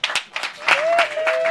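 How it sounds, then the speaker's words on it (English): Scattered clapping and cheering from a crowd at an outdoor protest rally, short bursts of claps with voices and a whistle-like tone mixed in, fairly close. "So give them a big round of applause for believing in what they believe in."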